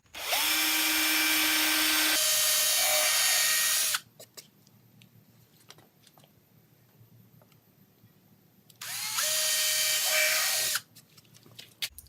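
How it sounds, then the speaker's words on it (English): A power drill bores through a wooden bat box meant for mounting on a tree. The motor whines loudly and steadily for about four seconds, pauses, then runs again for two seconds, with no talk. "Make sure you drill all the way through the wood."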